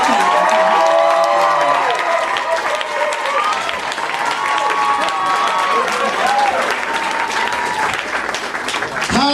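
Loud audience applause and cheering for a stand-up comedian in a Hollywood comedy club, dense steady clapping with shouts and whoops over it throughout.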